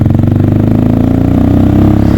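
A Honda Grom motorcycle's small single-cylinder engine revs hard and steady during a wheelie attempt, a loud, close, continuous buzzing drone with a slight throb and no talking.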